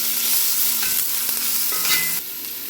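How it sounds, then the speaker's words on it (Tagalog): Onions caramelizing in a pan for palabok sauce make a bright, continuous close sizzle with light stirring scrapes throughout and no voices. "Tapos lagyan na natin ang ating sibuyas. So, pa-caramelize lang natin to."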